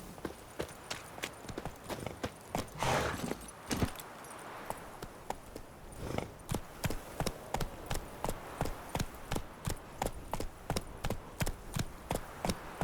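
A horse's hooves clip-clop steadily in The Witcher 3 video game, with brief irregular steps at first, then a regular trotting rhythm of crisp, close hoofbeats.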